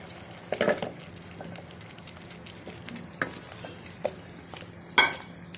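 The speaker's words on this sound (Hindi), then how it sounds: "अब मैं इसमें ना ये अरवी शामिल करती हूँ, अरवी शामिल कर देती हूँ। तो इसमें ना इसको भी अच्छी तरह भून लेंगे।" Taro pieces fry in spiced masala in a pan, a low steady sizzle broken by several scraping stir strokes and a few sharper utensil knocks against the pan.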